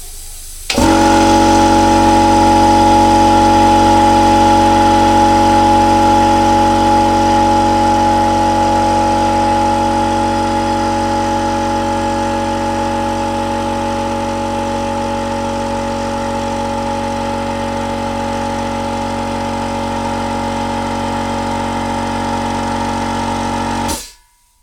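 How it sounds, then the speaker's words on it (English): An airbrush air compressor runs continuously, a loud, steady motor hum with a fixed buzzing tone that starts abruptly, holds for over twenty seconds, and cuts off at the end, with no talk. "turn the sound down when that happens, because that's the compressor, because this relies on air pressure"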